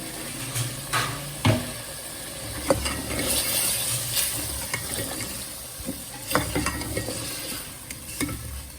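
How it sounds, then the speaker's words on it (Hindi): Ground onion fried with chicken for a tinda gosht curry, a close sizzle with repeated scraping stirs and knocks of a spoon against the pan at irregular intervals, with no voices. "अब मैं इसकी थोड़ी सी भुनाई करूँगी"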